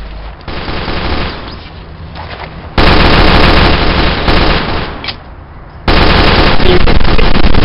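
Loud, dense automatic gunfire in a video game, sustained bursts that drop off briefly and then resume at full intensity, close and harsh with no talk.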